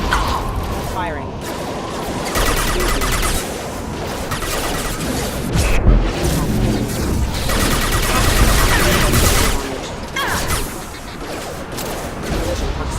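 Rapid bursts of weapons fire in Mass Effect, dense and loud, crackling in steady volleys with brief pauses, over a continuous mechanical rumble.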